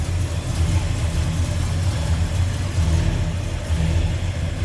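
A 1967 Ford F100 Ranger Custom Cab V8 with a new carb and headers runs steadily nearby, a deep, throaty, continuous rumble with slight swells in revs and no talking.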